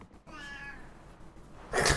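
A house cat gives a single drawn-out meow, close and clear, which fades into quieter room noise before a burst of louder rustling at the end.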